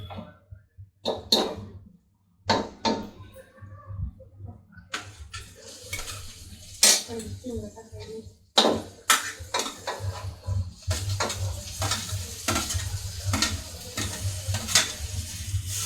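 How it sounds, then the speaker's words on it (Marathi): Fried onions and tomatoes being stirred in a pan for pav bhaji, with irregular scraping and clanking of a spoon against the pan over a soft sizzle, growing busier and steadier toward the end; no speech. "आपला कांदा लालसर असा भाजलेला आहे. त्यामध्ये आपण आता टोमॅटो टाकून घेऊया."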